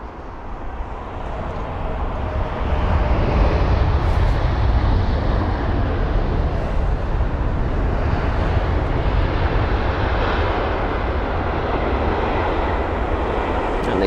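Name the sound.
Etihad Boeing 787-9 Dreamliner arriving and landing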